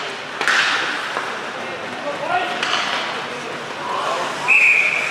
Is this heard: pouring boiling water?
no